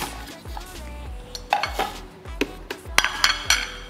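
A plate set down among clinking dishes, glass and cutlery in a home kitchen while tuna-corn risoles are prepared, with several sharp clinks and knocks over a low background hum.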